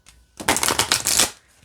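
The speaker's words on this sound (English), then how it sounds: "I am notoriously bad at trying to shuffle different shaped cards" Thin oracle cards riffled together in a quick burst, a dense papery flutter that builds and then trails off, close up with no talking.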